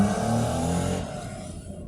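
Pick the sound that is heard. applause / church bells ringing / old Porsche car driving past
old Porsche car driving past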